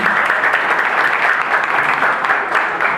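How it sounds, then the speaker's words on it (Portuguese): Audience applause at a church talk-show session, a steady dense wash of clapping from a crowd, moderately loud and continuous throughout with no voices over it. "Palmas para o Marcílio, gente."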